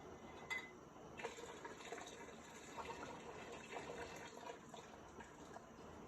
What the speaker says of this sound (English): I'm going to take one and pour the water out.